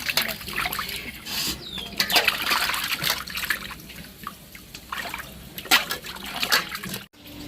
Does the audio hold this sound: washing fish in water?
yes